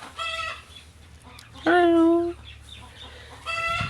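A brooding hen sitting in a nest clucks and gives a drawn-out call at close range, with short clucks before and after amid quiet background noise.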